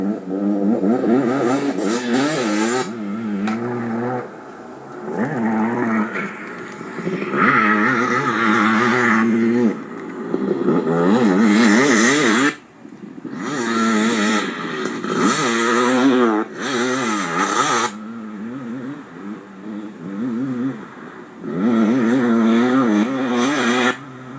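A rare nitro engine runs and revs hard in repeated bursts, its buzzy mid-pitched whine climbing and falling with brief drops between throttle blips, loud and close throughout.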